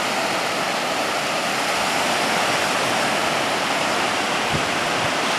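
Surf on Quinault Beach with the tide coming in, a steady loud wash of breaking water with no distinct breaks, alone with no talk.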